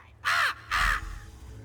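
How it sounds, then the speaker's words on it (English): Two loud, harsh caws from a crow in a video game ring out one after the other, each about a quarter second long, against a quiet low hum. "Pay the crows no mind. Nothing but an annoyance. The crows serve as Nocturnal's eyes."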